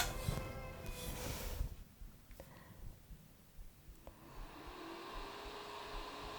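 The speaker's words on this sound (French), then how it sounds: "il y a un petit ventilateur à l'intérieur du boîtier qui souffle un peu" A small cooling fan inside an Elegoo Mars resin 3D printer blows with a steady, soft whoosh, following a louder stretch of broadband noise at the start.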